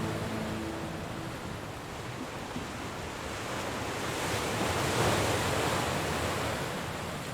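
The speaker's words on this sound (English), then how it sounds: "there is almost nothing but seawater, gusting wind, and rolling waves, stretching on seemingly forever to the horizon" Ocean waves roll and surge with gusting wind over open sea, a steady, loud wash of surf noise that swells slightly midway, with no voices.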